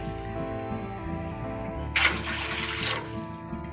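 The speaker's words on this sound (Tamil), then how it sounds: "1 லிட்டர் தண்ணி ஊற்றிக்கலாம்." One litre of water poured into a wide cooking pot, a dense splashing gush rising suddenly and lasting about a second, standing clearly above a steady low background hum.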